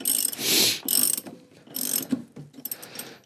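A ratchet cranks bolts to seat a Volkswagen 1.8T engine mount, giving several bursts of rapid clicking close by, separated by short pauses and softer handling noises.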